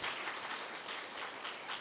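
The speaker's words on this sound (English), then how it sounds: "give the kids a round of applause" Brief, faint round of applause from an audience at a temple cultural program concert, a soft continuous patter of many hands with no voices.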